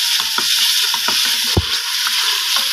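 Mutton and potatoes sizzle and fry in a pot while being stirred, a steady close frying hiss broken by scraping stir strokes and a sharp knock near the middle.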